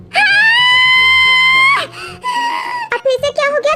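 A girl wails and cries loudly after eating chilli, a long sustained high wail followed by broken sobbing cries, close and alone without talk.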